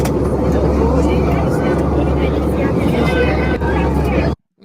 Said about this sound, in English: God damn, that airliner is loud.